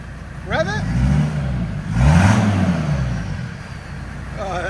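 A straight-piped 1983 Mercedes 300TD turbo diesel wagon revs up twice, each rise swelling loudly and falling back to idle, with people talking nearby.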